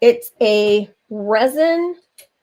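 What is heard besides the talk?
No everyday noises stand out.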